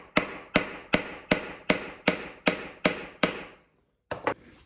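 A hammer taps repeatedly on a wooden router plane body to free it after cut-off nails, ten sharp evenly spaced knocks with a pause and then two quicker raps, close and alone.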